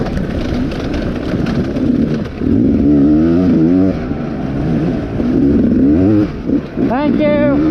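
A dirt bike revving loudly as it climbs a dry hill in a hare scramble race, the engine note rising and falling close by with constant roar.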